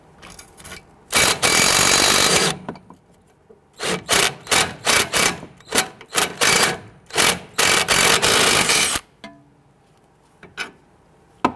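A 19mm socket on a wrench spins a sway bar end link nut on a 2011-2017 Nissan Quest. The loud, rough bursts come in a stop-start rhythm, several long runs broken by short pauses.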